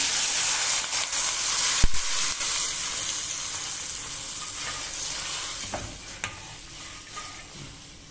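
Tamarind water bubbles and hisses in a pan on the stove, a steady sizzling simmer coming to a boil, with a few brief clinks and stirring knocks.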